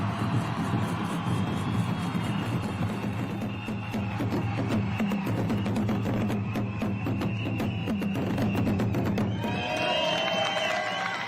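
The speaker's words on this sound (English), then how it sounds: "And the roar of the crowd as she rolls away" Spectators cheer and roar at the start of a women's individual time trial at the UCI World Championships in Rwanda, a sustained dense crowd noise that stays loud throughout, with whoops rising near the end.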